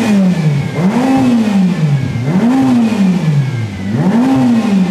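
A turbocharged Ferrari supercar engine revs three times in a row, each pull sweeping up and falling back in a loud, rasping, nearby roar with no talk over it.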